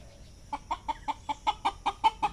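A rooster gives a rapid series of about ten sharp, evenly spaced alarm clucks at a nearby cat, close and insistent.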